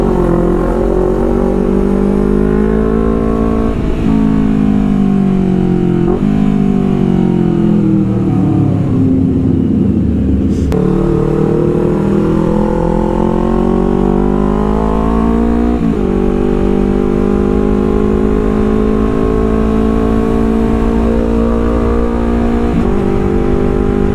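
Honda CBR250RR sport motorcycle engine droning steadily and loudly while riding, rising and falling through gears with repeated revving sweeps and brief shift dips, continuous and close with no talk.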